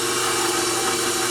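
An electric stand mixer churning Christmas cookie dough gives a steady, close motor whine with a constant mechanical hum, unbroken throughout.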